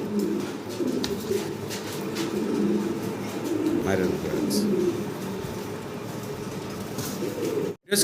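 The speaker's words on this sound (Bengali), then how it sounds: "এখানে ভাইয়ের কাছে আছে মডার্না কবুতর" Fancy pigeons kept for sale, including Mundi and Modena birds, coo in low, steady, repeated calls throughout, with constant background noise and some voices.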